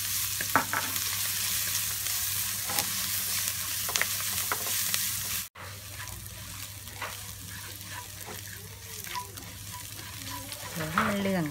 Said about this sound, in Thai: เจียวกระเทียมตัวครับ ใส่น้ำมัน